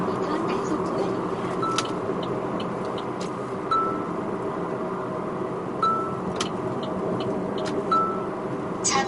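A Chevrolet Aveo hatchback with a 1.6 engine and manual gearbox drives in city traffic, a steady low cabin rumble of engine and road noise with a few brief chimes, while someone talks throughout.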